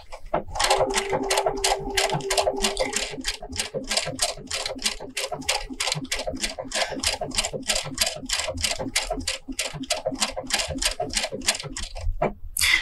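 A Brother sewing machine stitching a decorative pattern runs steadily, a rapid even mechanical clatter of needle strokes that continues for most of the stretch before stopping.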